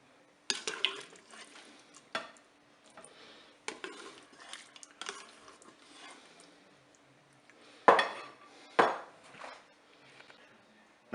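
Cooked endives are lifted from a Cookeo multicooker into an oven dish, with sporadic sharp utensil clanks and scrapes against the pot and dish, a few soft wet sounds, and quiet gaps between.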